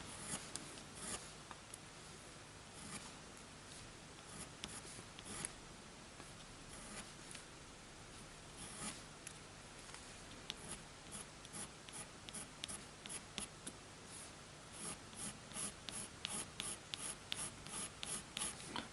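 Colored pencil scratches across paper while drawing a dog's ear, a soft continuous scratching with rhythmic quick strokes that grow sharper and more regular toward the end, close and quiet.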